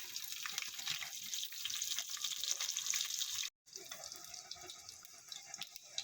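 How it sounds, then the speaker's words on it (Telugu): Tempering spices sizzle steadily in about two tablespoons of hot oil for a broad bean and taro tamarind stew, a continuous close hissing crackle with one brief break. "ఇవన్నీ బాగా వేగనివ్వాలి."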